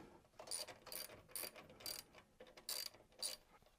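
Ratchet wrench with a 9/16 socket snugging a machine nut onto a battery terminal, a series of quiet, crisp clicking bursts in an irregular back-and-forth rhythm, close up with no talking.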